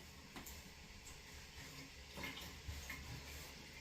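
Water runs from a tap in a faint, steady wash while rinsing off during a beard-care routine, with occasional soft splashes and no talking.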